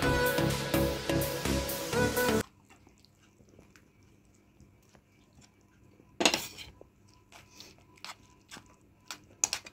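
Plates and cutlery clink while white sauce cheesy pasta is served at home, a dense clatter of dishes at first, then quieter scattered taps and one more burst of clanking.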